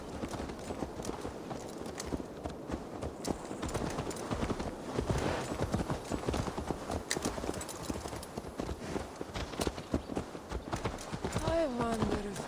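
Horse hooves walking in Assassin's Creed Valhalla, a steady clip-clop of plodding steps under a soft ambient bed, with a brief whinny near the end and voices talking over it.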